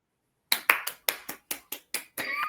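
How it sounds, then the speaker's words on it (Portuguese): Several separate hand claps ring out in an uneven run of about eight sharp, fairly close strikes after a moment of silence, ending in a brief burst of brighter noise. "Palmas para a ciência brasileira."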